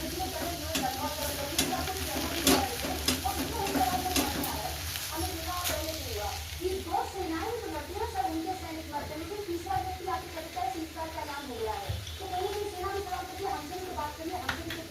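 Roti fries in a pan on the stove with a soft, continuous sizzle and occasional scraping and tapping, while someone talks over it throughout.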